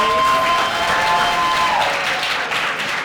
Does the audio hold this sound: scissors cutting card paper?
no